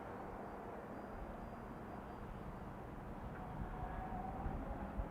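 An RC airplane's motor running at half throttle on a windy day: a faint, steady drone blended with wind rumble, distant and low in level, swelling a little toward the end.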